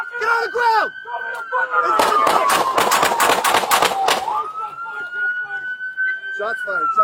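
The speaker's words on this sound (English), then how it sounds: "Shots fired by police." Police gunfire at the end of a chase, a rapid volley of about a dozen loud close shots over a wailing police siren, with officers shouting commands before and after.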